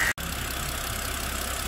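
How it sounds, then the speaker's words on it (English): A warm BMW E92 325i engine idles steadily close by, a continuous low hum with an even pulse after a brief cut at the start. "So it's running for a while now. The engine is warm"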